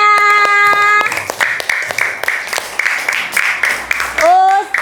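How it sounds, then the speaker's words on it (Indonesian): A class claps hands together during a morning lesson, with a short run of sharp claps after a brief sung or tonal passage, ending under a voice. "tepuk tangan untuk kita semuanya"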